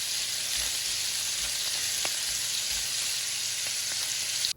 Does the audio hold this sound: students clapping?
no